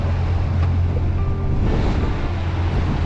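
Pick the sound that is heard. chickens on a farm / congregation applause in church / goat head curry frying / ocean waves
ocean waves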